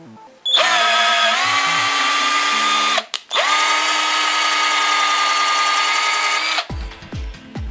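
A power drill bores a larger hole for a car hood spacer, its steady high whine running for several seconds, briefly dropping out, then resuming before stopping with a few clicks.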